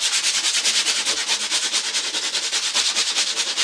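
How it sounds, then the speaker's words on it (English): Steady rhythmic scraping of sandpaper across a flat patched wallboard, quick back-and-forth strokes repeating evenly, close and fairly loud with no voices. "Give everything a good sanding."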